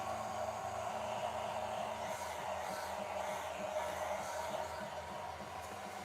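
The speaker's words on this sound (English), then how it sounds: "let's give her a nice blow dry here real quick" A hair dryer blow-drying fresh paint on a 3D-printed Spider-Gwen miniature, a steady close whooshing hum of rushing air with a faint motor drone, continuous and loud throughout.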